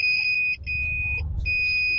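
A homemade continuity tester beeps while checking a screwdriver: a steady, shrill electronic tone that cuts out briefly twice, over a low rumbling background.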